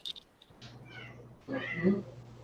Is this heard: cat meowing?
yes